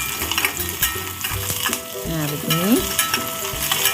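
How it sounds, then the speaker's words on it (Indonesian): Spice paste for chicken garang asem sautés in a pan with a busy sizzle and scraping stirs. A voice speaks briefly, and one utensil scrape slides in pitch. "Jadi hanya bumbu ini aja yang saya tumis."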